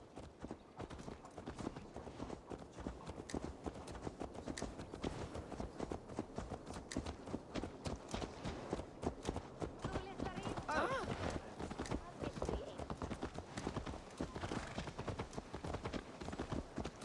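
A horse's hooves clip-clop at a steady walking rhythm in Assassin's Creed Valhalla, a continuous even beat of close, soft thuds running throughout the scene.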